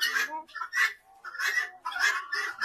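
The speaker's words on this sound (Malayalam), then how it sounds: "ഇത് ടർക്കി കോഴി അല്ലേ? ടർക്കി ഉണ്ട്." Turkey at a heritage farm house, giving a series of loud, close gobbling calls in about five bursts with short gaps between them.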